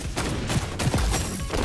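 Rapid bursts of gunfire from several weapons in the online shooter XDefiant, loud and sustained through the whole stretch with a dense rattling texture and no talk over it.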